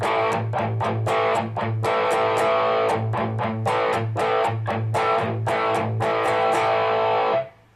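An electric guitar with distortion plays on an A, alternating tight percussive palm-muted chugs with ringing open strums in a steady driving rhythm, loud and close for several seconds until it cuts off.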